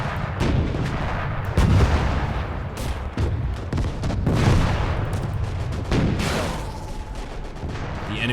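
Close-range artillery fire in the WWII Eastern Front game Call to Arms - Gates of Hell, heavy booming blasts in repeated loud rolling volleys, mixed with gunfire and no talk.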